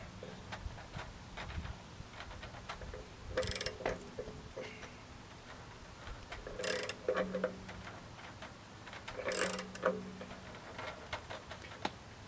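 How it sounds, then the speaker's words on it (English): A ratchet wrench turns a bearing puller on a Kenmore 970-c42062-00 washing machine, giving faint rapid ticking clicks broken up by three louder metallic clanks spaced a few seconds apart. "I got a longer ratchet, a longer wrench on the puller"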